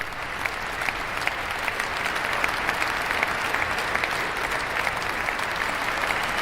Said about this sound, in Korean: 많은 사람들이 일어나서 지금 박수를 치고 있고요